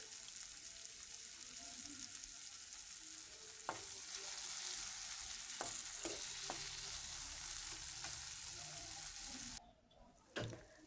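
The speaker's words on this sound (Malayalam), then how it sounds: "തക്കാളി സവാളയൊക്കെ നന്നായിട്ട് വഴന്നു." Tomatoes and onions sautéing in a pan for squid roast, a continuous close sizzle with occasional scraping stir clicks, dropping quieter near the end.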